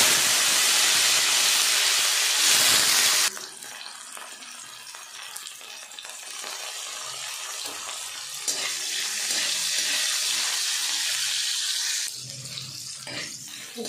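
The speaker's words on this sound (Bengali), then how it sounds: "এবার আমি উচ্ছেটা ভেজে নেব।" Bitter gourd fries in hot oil, opening with a loud hissing rush that drops to a softer, steady sizzle and crackle continuing throughout.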